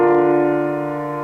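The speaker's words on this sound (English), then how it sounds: "We have major triads, which sound like this," A major triad chord sounds once as a sustained, steady chord that slowly fades, bright and alone with no talking.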